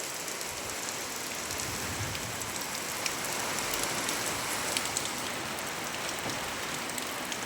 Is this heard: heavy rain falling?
yes